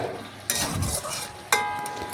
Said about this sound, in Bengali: এই ঝিঙের জল থেকেই দেখুন আমি সমস্ত সবজি ভালোভাবে কষিয়ে নেব